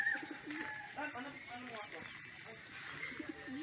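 Racing pigeons coo softly in a loft at a fundraiser race event, with repeated low throaty calls under nearby chatter and ambient noise.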